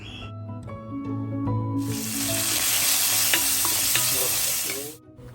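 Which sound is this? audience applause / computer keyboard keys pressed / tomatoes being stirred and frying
tomatoes being stirred and frying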